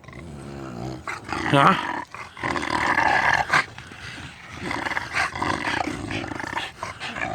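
A person imitates the gurgling, growling wall monster from the game Back 4 Blood with wet, throaty, rasping roars in uneven bursts, close to the microphone, with a brief spoken interjection.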